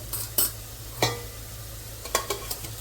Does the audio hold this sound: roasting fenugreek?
yes